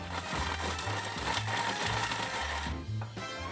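Almonds, panko and parmesan whir steadily in a food processor to become breadcrumbs, a loud continuous grinding with pulsing variations that briefly dips near the end.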